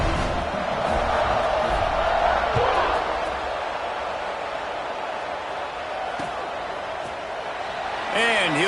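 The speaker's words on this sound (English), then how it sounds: "this crowd is buzzing after that last score" Game-audio stadium crowd at a college football matchup against Texas A&M, a steady broad roar and buzz filling the whole stretch, with a brief brighter swell near the end.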